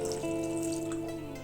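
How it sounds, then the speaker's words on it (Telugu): Water pours steadily into a pot of lentils and tomatoes for tomato dal, a close, continuous splashing stream with no talk. "ఇప్పుడు దీంట్లో కొంచెం వాటర్ వేసి ఒక 1/2 గ్లాస్ వేసుకోండి"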